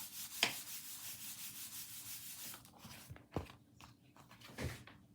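Rubbing across a handmade paper greeting card of yellow summer poppies, a steady close dry scuffing that runs several seconds, then breaks into a few separate firm strokes near the end, with no voices.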